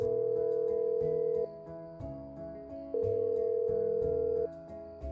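Electronic telephone tones while a call is placed in a Silent Hill game parody: a loud, steady tone held for about a second and a half, then shifting pitched tones that repeat, with no voices.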